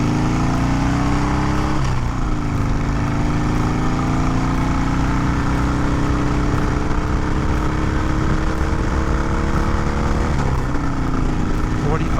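A 2020 Harley-Davidson Iron 883 with a T-MAP sensor issue and check engine light accelerates in second gear, its engine roaring continuously with rising pitch sweeps, close and steady throughout.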